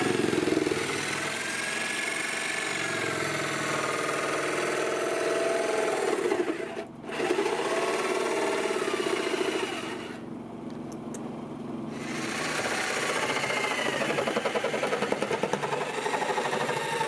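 A jigsaw buzzes steadily as it cuts through wood to make a leaf feeder for an off-grid cabin rainwater system, briefly stopping twice and easing in tone partway through.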